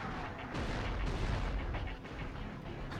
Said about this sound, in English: I love this mortar, by the way.